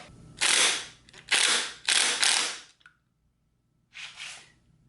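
Work on a Western Auto 5hp boat motor's flywheel: several loud bursts of harsh ratcheting and mechanical clatter, each about a second long, then a pause and one shorter burst, close up in a quiet garage.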